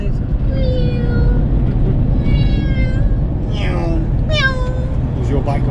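A person imitates a cat's meow several times in a row, close and clear, over a steady rumbling engine noise from a motorhome driving in Italy.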